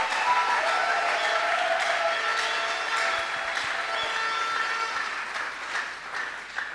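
A church congregation at a seminar claps in sustained applause, a broad steady wash of hands that fades slightly toward the end, with no talking over it.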